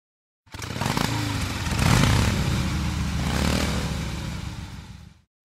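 A motorcycle engine revs loudly and alone for about five seconds, rising to a peak, dipping slightly, then surging again before cutting off.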